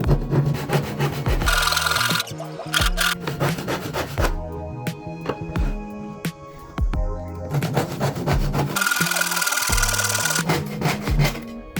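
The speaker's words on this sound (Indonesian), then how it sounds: "Saya potong dengan gergaji tangan." A hand saw rasps through a wooden board in steady back-and-forth strokes, close and loud, with brief pauses between runs of cutting.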